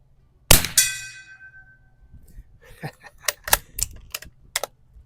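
Rifle rounds striking a steel gong target at a 50 to 100 yard range give two bright, ringing metallic clangs that decay slowly, followed by quieter sharp clicks and handling noises.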